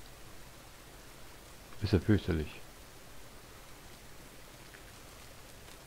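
Soft, continuous rainfall patters in the farming game Farmer's Dynasty, a faint, even hiss. Someone speaks briefly over it partway through.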